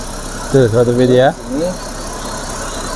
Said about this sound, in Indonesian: Ini kan kondisi mesin hidup ya